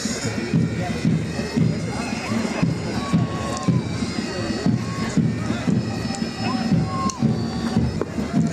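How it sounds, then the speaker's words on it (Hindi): Crowd applause and cheering for the JAP-10 women's battalion band at a passing out parade at a training centre, a steady wash of clapping mixed with scattered shouts and a voice talking over it. "और एक बार तालियां हमारे बैंड के लिए, जैप-10 महिला बटालियन बैंड"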